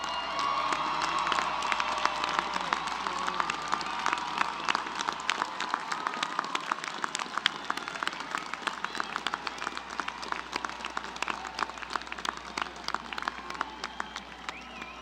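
A commencement audience applauds honors graduates at a university ceremony, sustained dense clapping with scattered cheers and whoops, lively and continuous from start to finish.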